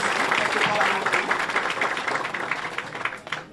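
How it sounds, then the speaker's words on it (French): Applause from a crowd at a prison ceremony marking an international prisoners' day, a dense, steady patter of clapping that thins out slightly toward the end, with voices mixed in. "nous sommes capables de faire un applaudissement pour eux"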